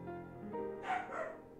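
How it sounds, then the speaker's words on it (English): A female dog in a home makes a short, moderately close bark or yip with some whining tone, heard alone for under two seconds. "That's the dog. Ignore her."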